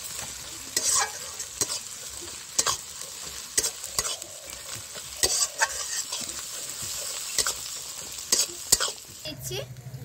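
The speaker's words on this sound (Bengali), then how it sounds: "এবারে আদা বাটাটা দিয়ে দিচ্ছি, দিয়ে মিশিয়ে নেব" Ginger paste stirred into a frying pan for a country-chicken and new-potato curry, a quiet steady sizzle broken by repeated sharp scraping strokes of a spoon against the pan, close and rhythmic.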